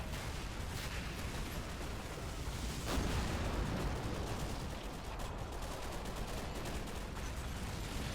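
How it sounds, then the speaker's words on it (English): Battle noise from the Men of War video game, set in a World War II German retreat from Stalingrad, runs as a dense, continuous wash of gunfire and explosions, with a stronger blast about three seconds in. "I love the explosions and all that."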